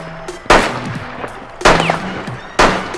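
Three separate loud single gunshots from Rainbow Six Siege, spaced about a second apart, each a sharp crack that trails off, with faint game tones between them.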